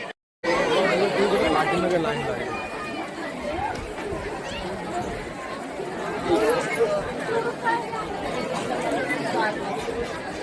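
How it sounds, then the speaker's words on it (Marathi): Dense crowd chatter from a large throng of devotees queuing at Ekvira temple, a continuous murmur of many voices close around, steady and loud throughout. "तुम्ही बघू शकता खूप जास्त गर्दी आहे"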